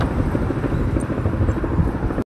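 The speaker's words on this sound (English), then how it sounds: "Helicopter." A steady, dense mechanical roar of a helicopter, loud and close, holding level for a couple of seconds before cutting off abruptly.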